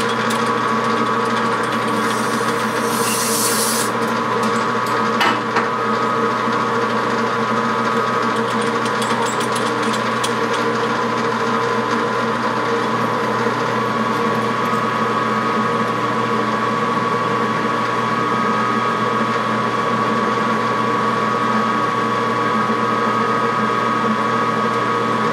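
A machine cutting out the threads of a machinist jack with a 3/4 bit gives a steady, continuous mechanical whir with a faint tonal hum, running unbroken and alone.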